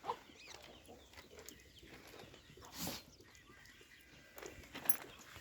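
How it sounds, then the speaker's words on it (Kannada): Chickens in a village farmyard near a sheep shed, with faint scattered clucks and calls spread across a quiet outdoor background. "ನೋಡಿ, ಕೋಳಿಗಳು, ಹಳ್ಳಿ ಅಂದರೆ ಗೊತ್ತಲ್ಲ, ಕೋಳಿಗಳು ಎಲ್ಲ ಇದೆ."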